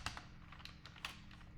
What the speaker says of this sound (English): And I could start just typing in here some topics.